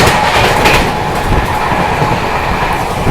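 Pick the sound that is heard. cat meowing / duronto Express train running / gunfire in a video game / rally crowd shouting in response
duronto Express train running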